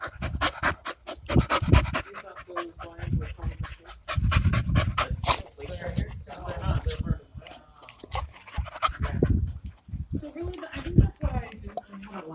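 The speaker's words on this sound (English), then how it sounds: "Let's see if we can get close up to this dog fight that's taking place back here." Dogs scuffle and play-fight up close, with heavy panting, growls and snuffling bursts throughout, while a person talks over them.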